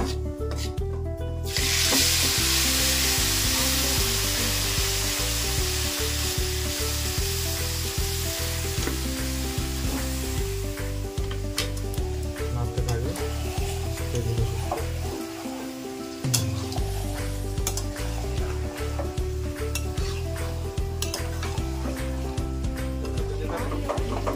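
Mustard-oil-marinated mutton with bay leaf and dried red chili sizzles loudly in a wok, a dense continuous frying hiss with stirring scrapes, close up, over background music.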